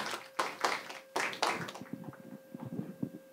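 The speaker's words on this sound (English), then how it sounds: "give them a big applause" A small audience claps briefly at a band music show, a few loud, separate bursts of hand claps at first that thin into scattered, softer claps.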